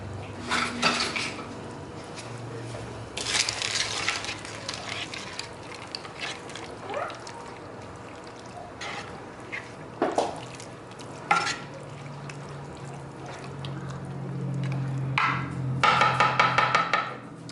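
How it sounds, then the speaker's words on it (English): A spoon stirs peas into a crockpot dish, making scraping and clanking against the pot with a few sharper knocks. The bursts are intermittent and close, over a faint background hiss, and no one speaks. "And then we're going to stir that up."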